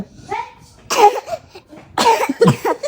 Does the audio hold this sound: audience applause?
no